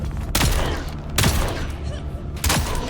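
Gunfire in the video game Dune Awakening: three loud, separated bursts of shots about a second apart, each a sharp crack with a heavy low thump, over a steady game background rumble.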